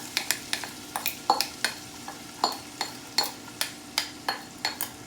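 Onions being slid into a hot pan that already holds cooked leek greens and potatoes, heard as a run of sharp utensil scrapes and clinks over a soft, low sizzle.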